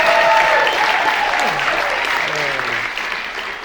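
Applause rolls through a comedy taping crowd, dense and loud at first and tapering off over a few seconds, with a voice talking over the clapping.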